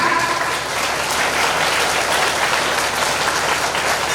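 Audience at a devotional religious gathering applauding, a dense, steady wash of many hands clapping at close range with no pauses.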